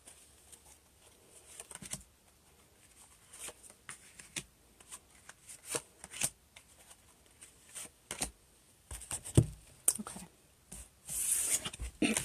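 A deck of tarot cards being shuffled by hand, a run of soft riffling and slapping bursts scattered across the stretch, growing busier and louder toward the end, close by with no talking.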